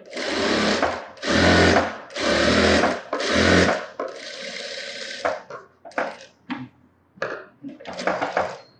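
A tailor's sewing machine stitches a sleeveless model blouse near the hook placket in four loud, close, evenly spaced bursts, followed by lighter clattering handling noises.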